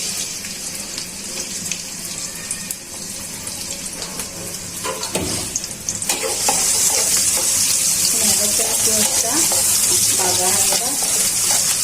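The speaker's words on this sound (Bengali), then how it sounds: "তেলটা গরম হয়ে গেছে, আমি পেঁয়াজ কুচিগুলো দিয়ে দিচ্ছি।" A low background hiss gives way halfway through to a sudden loud sizzle as chopped onions hit hot oil, crackling steadily to the end.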